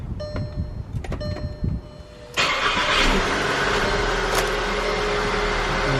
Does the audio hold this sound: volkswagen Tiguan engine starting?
yes